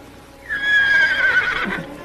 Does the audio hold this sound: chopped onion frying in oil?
no